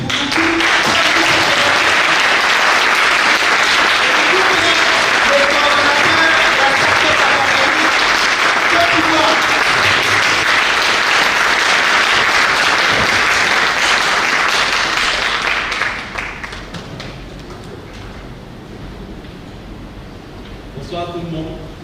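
Conference audience applauding loudly and steadily for about fifteen seconds, then the clapping fades to scattered claps and room murmur, with voices faintly underneath.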